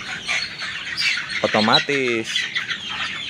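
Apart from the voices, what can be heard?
chickens clucking while eating feed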